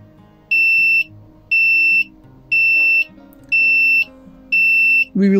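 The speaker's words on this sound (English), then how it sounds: "The alarm is activated at the set time in the form of short beeps with a duration of 500 milliseconds" Short electronic alarm beeps from an Arduino retro clock with an HPDL1414 display, sounding five times in a steady on-off rhythm, each about half a second long, loud and close, ending in a brief click.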